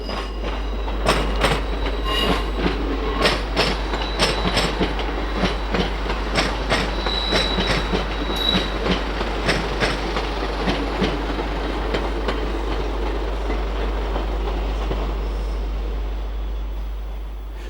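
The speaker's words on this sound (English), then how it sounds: "Here we see a Class 158 Sprinter coming off the Scarborough line." A Class 158 Sprinter diesel train rolls past steadily off the Scarborough line, with a low engine drone and repeated rhythmic clicks of wheels over rail joints, fading slightly toward the end.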